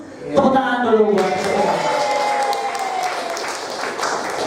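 Audience applause at a teachers' motivational training session, a dense wash of clapping that swells in and holds steady, with a voice speaking over the start.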